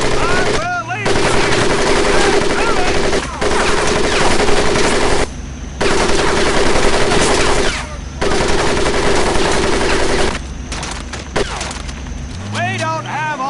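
Sustained machine gun bursts in the World War II shooter Medal of Honor: Pacific Assault, loud and near, running in long rattling volleys with brief pauses, with a commanding voice shouting over the gunfire.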